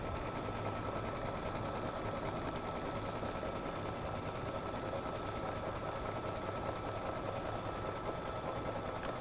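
Sewing machine running steadily through a tight satin-stitch zigzag on a Christmas ornament project, a continuous close, even mechanical whir with a rapid stitching rhythm and no talking.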